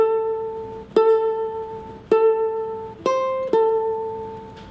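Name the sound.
ukulele plucked sustained note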